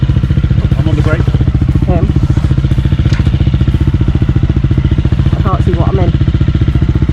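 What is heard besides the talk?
motorcycle idling while being rolled back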